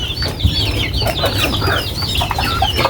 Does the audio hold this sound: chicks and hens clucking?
yes